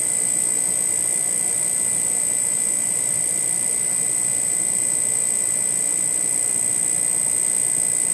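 Electrostatic high-voltage magnetic levitation motor spinning up past about 3,700 RPM and still accelerating, giving a steady, loud, high whine with constant tones and a broad rushing hiss throughout, no voices.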